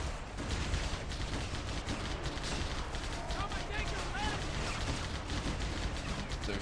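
Shade turrets fire in Halo SPV3.3, producing dense, continuous bursts of loud weapon fire and crackling impacts throughout, with speech mixed into the clamor.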